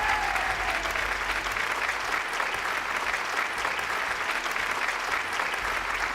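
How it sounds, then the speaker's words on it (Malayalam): A studio audience at a television game show claps continuously for about six seconds, a dense, even wash of many hands with no voices over it. "നല്ല കൈയടി."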